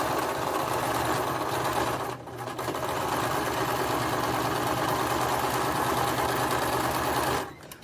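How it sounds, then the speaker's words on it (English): A sewing machine runs top stitching along the edge of a fabric face mask, a fast steady mechanical whir that dips briefly near the start, then resumes until it stops at the end. "I'm going to just run like a top stitching"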